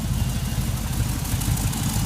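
A swapped LSX V8 sits idling in a BMW E28, a steady low, throbbing rumble with an even beat and a faint exhaust leak, close by with no talking.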